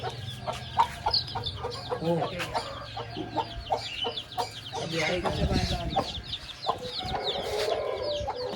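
Hen with a brood of seven chicks clucking and cheeping in a backyard coop, repeated short calls near and fairly clear, with a low steady hum beneath and brief rustling.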